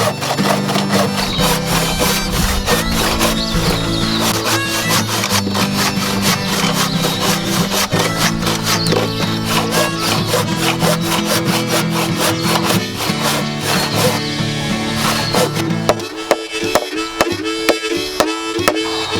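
Timber is sawn to a 2.6-metre length for a roof rafter at a bush camp, with loud, continuous, rhythmic rasping strokes close by over a dense background of other sound, ending in a few sharp knocks.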